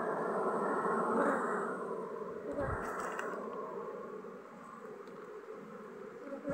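Honey bees buzz steadily around a hive during a strong nectar flow with a young queen, a dense, continuous drone close by with no voices.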